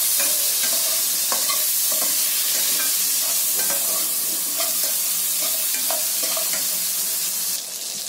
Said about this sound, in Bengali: আলুটাকে ওই সময় একটু ভেজে নেবো ভালো করে ভেজে নিলে টেস্টটা ভালো হবে।